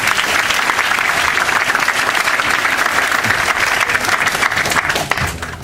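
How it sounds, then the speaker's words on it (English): Sustained applause from an audience at a technology showcase event, dense steady clapping at full volume for several seconds before tapering slightly at the end. "Round of applause"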